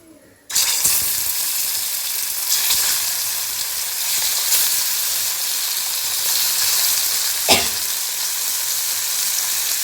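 Cashews fry in a pan for an Arabian beef kabsa, bursting into a loud, continuous sizzle after a brief quiet start, with occasional stirring scrapes and one sharp clatter.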